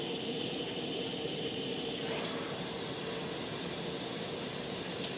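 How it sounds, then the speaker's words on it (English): A shower head and a hand shower run together at a mixed setting, giving a steady, even rush of spraying water with no pauses. "This is the mixed function with the shower head and the hand shower running together."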